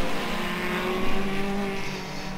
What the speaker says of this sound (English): So here they come then home straight once again, 53 Nigel Foster now under pressure from the